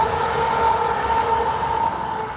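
A Class 350 electric train passing on the West Coast Main Line north of Crewe, a steady loud rumble with a sustained tonal whine running through the short stretch.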